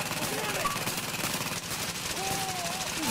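Gunfire from the video game Tom Clancy's The Division rattles continuously beneath players' voices as they talk during a firefight.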